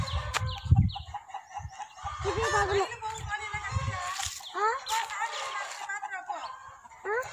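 Chickens cluck and a rooster crows close by in a village yard at home, the calls loud and repeated, mixed with people talking nearby.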